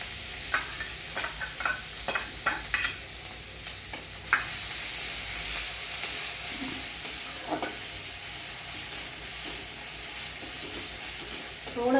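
Scraping stirs clatter in a pan at first, then a steady loud sizzle takes over, with occasional spoon scrapes against the metal.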